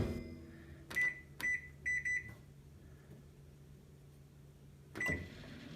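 A kitchen microwave oven set to 8 minutes gives several short electronic beeps at key presses, then hums quietly as it runs, with another beep near the end.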